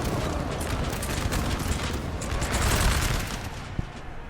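Sustained, dense volleys of massed musket fire crackle from a flanking line in a Napoleon Total War battle, a continuous loud roar of overlapping shots with one sharper crack near the end.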